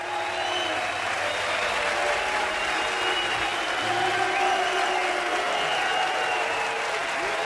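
Concert crowd at a blues performance cheering and applauding, a dense steady roar of clapping with scattered shouts, fairly loud and continuous throughout.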